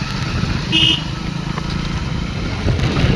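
A motorcycle engine hums and rumbles steadily nearby while a group of three bikes rides to a new location, a continuous loud drone with a brief higher whine.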